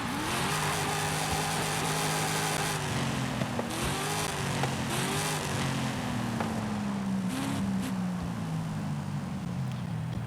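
A Dodge Challenger Demon drag car in a racing video game revs and accelerates continuously for about ten seconds, its engine tone climbing and shifting through gears, loud and steady throughout.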